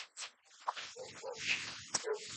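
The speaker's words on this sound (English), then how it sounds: "Hear the bark, right?" A dog in an urban street setting gives a few short, faint barks and yelps at a distance, spread unevenly among other muffled background noise.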